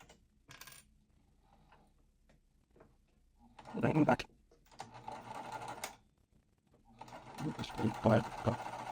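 A sewing machine stitches quilt fabric for a mystery quilt in short bursts of rapid mechanical whirring, with quiet pauses and small handling clicks between runs.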